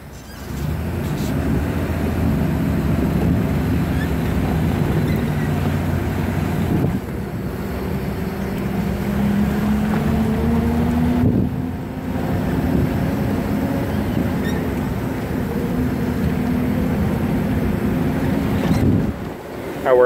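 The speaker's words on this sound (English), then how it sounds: "Let's go for a little drive." A 1961 Chevrolet Corvette drives along, its engine holding a steady, loud low drone for the whole stretch, with rising and falling pitch from the revs and wind roar mixed in.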